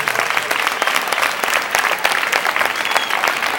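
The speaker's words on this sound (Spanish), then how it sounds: "pido ese fuerte aplauso para la reina de las fiestas 2009, Marta Durán Fernández." Loud, sustained applause from a crowd at a town festival presentation greeting the festival queen, dense clapping close by and steady throughout.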